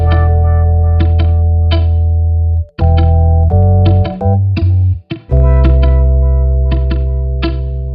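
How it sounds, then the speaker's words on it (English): A bright, twangy clavinet plays sustained chords and stabs, its tone sweeping with a mod-wheel wah-wah filter, loud and close with short gaps between phrases. "use the mod wheel on my keyboard to give it that wah-wah sound like this"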